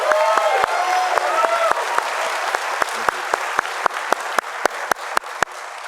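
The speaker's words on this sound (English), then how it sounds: "would you join me in a round of applause for Trent as well" A commencement ceremony crowd at a business school gives a round of applause, dense clapping with some voices, thinning out toward the end into a few sharp, separate claps close by.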